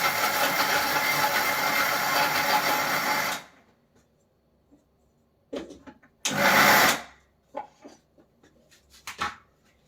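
A mixer grinder coarsely grinding roasted walnuts and sesame seeds, running loud and steady for about three seconds, then silence broken by shorter pulsed bursts and rattles as the jar is worked in spurts.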